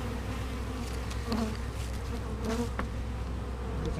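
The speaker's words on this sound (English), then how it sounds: "Look like they got some bees" A dense, steady drone of many bees buzzing close by in an abandoned hive, with occasional louder individual buzzes passing near.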